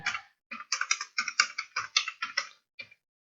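Close typing on a computer keyboard: a fast run of crisp keystrokes over about two seconds, then a brief pause and one final short tap, with no talk.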